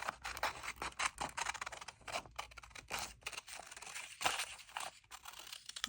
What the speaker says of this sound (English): This will be good practicing for cutting out using scissors.